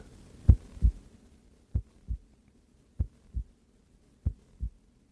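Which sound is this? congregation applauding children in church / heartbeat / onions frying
heartbeat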